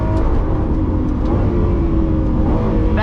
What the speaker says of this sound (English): That naturally aspirated V12 sounds insane.